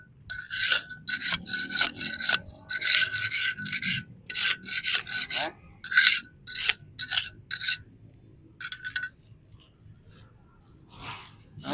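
A broom sweeps a street intersection at Cau Giay in bursts, with repeated crisp, scratchy strokes in an uneven rhythm, close and fairly quiet, separated by short pauses.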